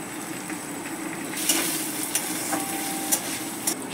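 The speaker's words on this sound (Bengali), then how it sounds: "এভাবে চাউটাকে আমি নাড়তে থাকবো।" A soft, continuous sizzle of chow mein being stirred in a pan with vegetables, egg and chicken, marked by a few sharp scraping knocks of the spatula, fairly quiet and close with no talking.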